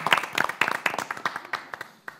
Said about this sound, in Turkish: Hepimize bir alkış. Bravo.